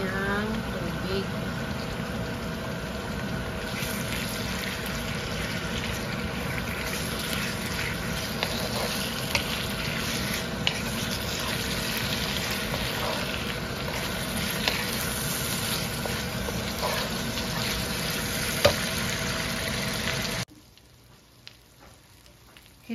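Meat frying in a pan for ginataang beans, a steady broad sizzle with small pops and crackles running close and even for about twenty seconds before cutting off, with a voice speaking over it.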